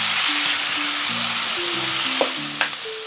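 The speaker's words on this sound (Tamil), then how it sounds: "அடுத்தது வந்து ஈரலை போட போகிறேன் சட்டியில்." Pieces of mutton liver fry in hot oil in a pan, giving a steady, close sizzle throughout with a couple of sharp utensil clinks near the end and soft background music underneath.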